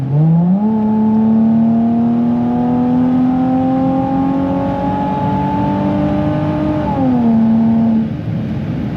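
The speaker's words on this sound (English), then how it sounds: "just smashing on the gas from 70 miles per hour" Chrysler Crossfire SRT-6 under hard acceleration from 70 mph, a loud, steady engine drone climbing smoothly in pitch for several seconds, then dropping at a gear change and climbing again, heard close from inside with no talk.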